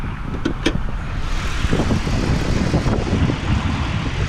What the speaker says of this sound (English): So the engine runs strong. But when you accelerate hard, it sounds just smooth.